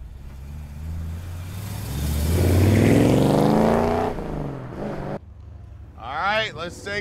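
A 1955 Chevrolet Bel Air engine with a 4-speed revs up and roars as the car drives off, then lower rumbling and gear changes, fairly close and loud.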